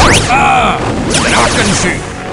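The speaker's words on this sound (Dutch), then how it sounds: "Wat een explosie." Explosion in the video game Action Man: Jungle Storm, a loud crashing burst followed by a second blast, with swooping synthetic tones and debris noise.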